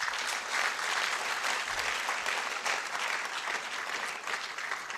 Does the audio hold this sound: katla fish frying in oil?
no